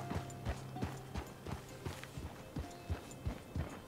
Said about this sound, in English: I'm just a guy riding through the woods on his horse